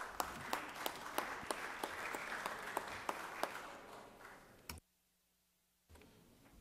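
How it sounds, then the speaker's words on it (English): Applause fills the Georgia Senate chamber as a steady wash of clapping with sharp individual claps standing out, then cuts off abruptly into near silence before faint room noise returns. "Give yourself a round of applause."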